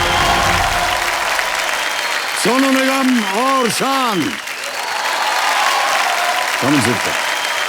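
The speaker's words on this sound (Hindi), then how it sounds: "आइए जोरदार तालियां बज जाएं" A studio audience at a KBC quiz show applauds loudly and steadily throughout, while a voice announces over the dense clapping.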